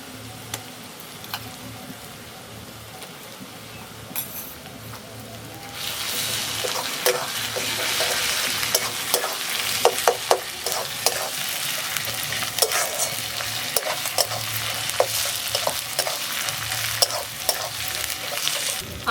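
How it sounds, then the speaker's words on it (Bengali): Onion frying in a pan with ginger-garlic paste added, a steady hiss that swells into a loud, dense sizzle with crackles and occasional stirring scrapes, no voices. "পেঁয়াজটা হালকা ভেজে নিয়ে দিয়ে দিচ্ছি আদা রসুন বাটা।"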